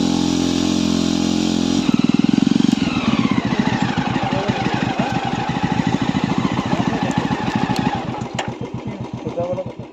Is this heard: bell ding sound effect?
no